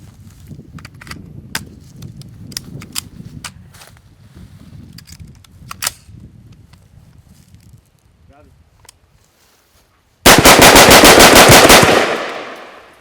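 A rifle fed from a Hexmag magazine fires a rapid, loud burst of ten rounds in quick succession near the end, after a stretch of quieter outdoor rustling, footsteps and scattered clicks.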